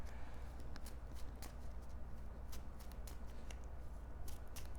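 Playing cards for the Marvel Champions card game are shuffled close up, a run of quick crisp riffles and soft card snaps in an uneven rhythm, with no talk over them.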